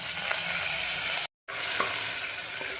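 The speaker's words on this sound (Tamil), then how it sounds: "அடுப்பை சிம்மில் வச்சு லேசாக வதக்கினா போதும்." Chopped onion, shallots, garlic, green chilli and tomato sizzle gently in a pan over low heat, a steady soft frying hiss with one brief break in the middle.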